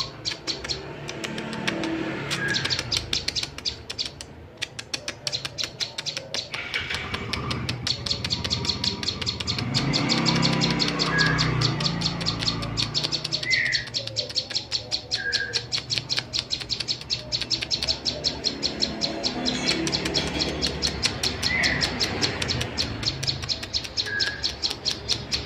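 A perjak, a Prinia songbird, sings loudly and persistently, its sharp repeated chirps and trills ringing near and bright over a steady outdoor hiss.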